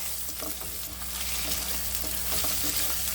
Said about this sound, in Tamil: வெங்காயம் நல்லா இந்த அளவுக்கு வதங்கட்டும்